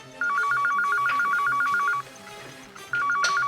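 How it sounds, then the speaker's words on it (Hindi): A telephone rings in two electronic bursts of rapid trilling tones, a pause between them, fairly loud and close with faint room noise beneath. "ये लेकिन बेल तो बज रही है।"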